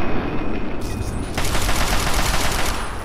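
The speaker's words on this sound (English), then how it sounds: "Let's change while we're here to the assault rifle. And let's pop some shots in the head." Assault rifle fire in Fallout 3, loud and dense, with rapid shots running continuously through the clip and intensifying midway.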